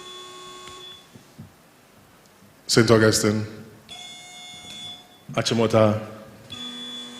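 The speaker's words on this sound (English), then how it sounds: "Can you ring your buzzer so I take note again?" Quiz contestants press electronic buzzers at a school quiz competition, giving sustained steady beeping tones that start and stop, with bursts of voices calling out school names in between.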